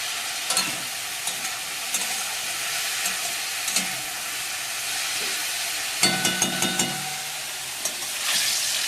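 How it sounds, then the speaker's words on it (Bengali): Potatoes fry in hot oil in a home kitchen, a steady soft sizzle underneath with several sharp bursts of crackling and spatter, some as brief clustered pops, with no talking. "আলুটা এখনো ভাজা চলছে"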